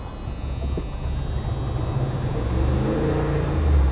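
An off-road truck that is nearly out of fuel cranks and starts, its low engine rumble under a steady electrical hum and growing louder toward the end.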